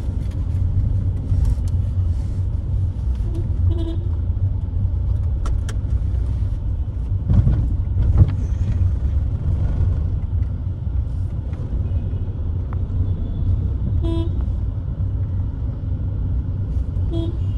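A 2016 Mahindra KUV100 with a three-cylinder diesel engine rumbles steadily on the road at low gear, a continuous near engine drone with short horn toots from traffic now and then.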